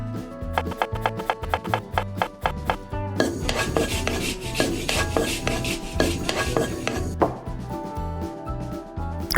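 Pasta is stirred with grated cheese and olive oil, giving rhythmic metallic clinks and scrapes of a utensil against a pot, then a denser run of clatter and stirring, close and loud with no talk.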